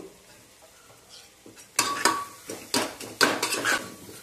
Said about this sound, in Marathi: मसाले आपल्याला चांगले परतवून घ्यायचे आहेत